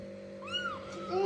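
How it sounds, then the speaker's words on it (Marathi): A small kitten shut inside a fridge gives a single thin, rising-and-falling meow, faint and close, amid a low steady appliance hum, with voices around. "मांजर फ्रीज मध्ये ठेवलं काय"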